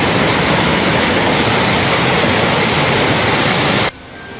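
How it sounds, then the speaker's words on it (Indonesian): A train rolls at limited speed over a rail line reopened after repairs in Grobogan, a loud, steady roar of wheels on track filling the scene before cutting off abruptly near the end. "kereta api melaju dengan kecepatan terbatas"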